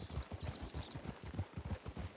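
Horse hooves clip-clop in steady, rapid rhythm in the video game Red Dead Redemption 2, a continuous moderate-volume trot over a soft ambient bed.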